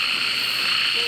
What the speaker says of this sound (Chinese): 现在有几只青蛙在这个声音里面？